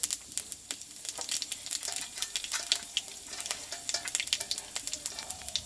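Bay leaf and half a spoon of panch phoron spluttering in white oil in a wok, a soft steady sizzle dotted with sharp popping crackles.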